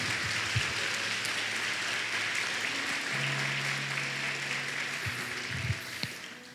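A church congregation applauds God during a Portuguese-language sermon, a soft, continuous wash of clapping from a large room with faint low tones underneath.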